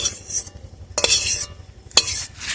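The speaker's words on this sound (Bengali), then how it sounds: "এবার আমি একটু বেসন ভেজে নেবো দু চামচের মতো বেসন দিয়ে দিলাম" Gram flour (besan) dry-frying in a pan for a Bengali vegetarian dhoka dish, stirred with a utensil: three bright scraping swishes about a second apart over a faint low hum, close and clear, no voices.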